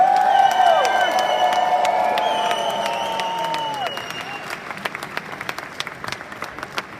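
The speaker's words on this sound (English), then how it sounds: "and the crowd goes wild!" At a corporate launch event in Amsterdam, crowd applause and cheering rise under a sustained musical tone, then the music drops away and the clapping thins into scattered claps that fade toward the end.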